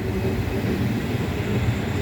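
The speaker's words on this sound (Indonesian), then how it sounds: "Iya tuh kereta jalan tuh." Commuter Line train on the Bogor–Juanda line passing close by, a loud, rumbling, continuous roar of wheels and carriages with no voices over it.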